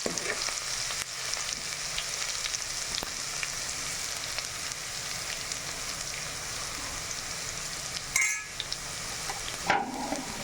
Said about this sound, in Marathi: लसूण जिरं फ्राय झालेलं आहे.